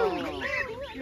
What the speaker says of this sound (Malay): Angsa kan. Besar ni warna putih.